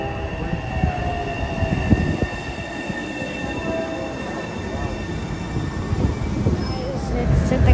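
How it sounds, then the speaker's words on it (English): An MBTA Orange Line subway train bound for Forest Hills rumbles loudly into Sullivan Square station, wheels squealing faintly over the steady roar, with a voice speaking briefly. "The next Orange Line train to Forest Hills is now arriving."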